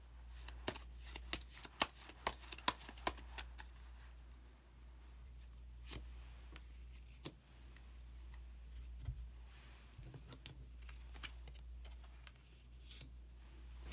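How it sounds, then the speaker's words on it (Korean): Tarot cards are shuffled and drawn by hand, giving quick, crisp riffles and soft flicks in bursts, close and quiet, over a faint low hum. "마법사 카드 한 장 더 뽑아보도록 하겠습니다"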